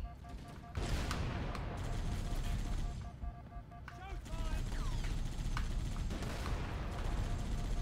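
Halo: Combat Evolved gunfire rattles in bursts of rapid shots, close and loud, with a brief lull before firing resumes over ongoing battle noise; a voice speaks over it.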